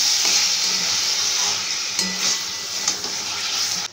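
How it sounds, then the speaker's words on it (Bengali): Chicken kadai being stirred in a pan with its lid just lifted, a close, constant sizzle with several scraping strokes of a spoon at an even pace. "এবার ঢাকনাটা খুলে একটু নাড়াচাড়া করে দেব।"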